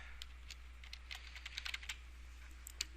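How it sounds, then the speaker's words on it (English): Keys on a computer keyboard are tapped in a quick, irregular run of soft clicks, close and quiet over a low steady background hum, with no talk. "Alright, so I'm going to go ahead and type my name there."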